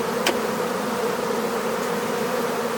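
Young honeybees at a hive swarm produce a dense, steady buzz that fills the whole stretch, close and even in loudness, with a brief sharper tick near the start.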